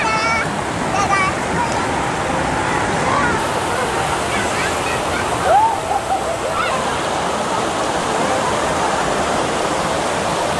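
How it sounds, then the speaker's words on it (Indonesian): Water pouring down from above into the fourth tier of stone pools at a stone garden in Purwakarta, a steady, loud broadband rush that stays even throughout, with faint voices in the background. "Tapi tidak kalah menarik dari undakan 1, 2, dan 3"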